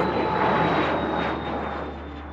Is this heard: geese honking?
no